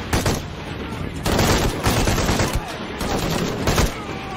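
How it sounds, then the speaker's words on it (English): Rapid machine gun bursts ring out in Shadow of the Tomb Raider, loud and close, in repeated volleys with short gaps between them, over continuous combat noise. "Oh, I got a fucking machine gun."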